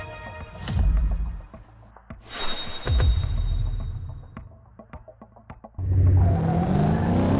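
Car engines rev and whir through a short drag race in the racing game Top Drives, with loud surges of acceleration, gear-change dips and a final roaring burst, no talk over it.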